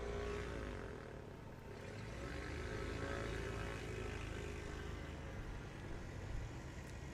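A STOL aircraft rolls out and brakes hard after landing on a turf runway during competition practice, its propeller engine droning steadily and loudly throughout with no talk.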